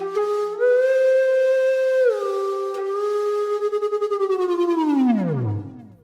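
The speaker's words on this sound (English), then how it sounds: "Next up we have a preset called Metal Pan Flute," Metal Pan Flute preset on a ROLI Equator2 synthesizer plays a sustained breathy, metallic flute-like tone that slides between pitches, gains a fluttering wobble, then bends sharply downward as it fades out; no talking.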